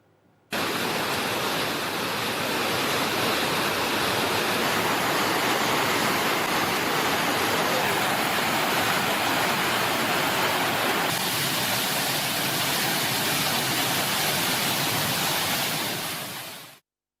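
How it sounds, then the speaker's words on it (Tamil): Flooded waterfalls at Courtallam in Tamil Nadu pour with heavy force, a loud, unbroken rushing roar that starts abruptly and holds steady throughout. "இன்று காலையில் மெயினருவி, ஐந்தருவி, பழைய குற்றாலம் உள்ளிட்ட அருவிகளில் வெள்ளப்பெருக்கு ஏற்பட்டுள்ளது."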